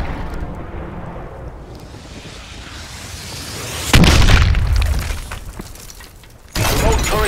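In Call of Duty: Advanced Warfare, an orbital care package comes down under a low rumble with a heavy booming impact, then a second loud thud follows a few seconds later.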